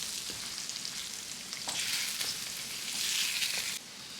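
Eggs seasoned with black pepper fry in a hot pan for a chicken fried rice, a steady close sizzle with a few scraping stirs. The frying swells louder partway through, then drops away near the end.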